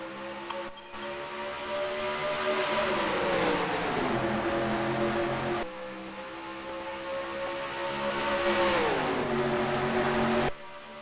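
Race cars in a racing video game taking the green flag at Chicagoland, engines swelling to a loud roar, fading as the pack passes, then building into a second rising roar before cutting off.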